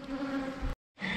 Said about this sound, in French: Il y a pas mal d'abeilles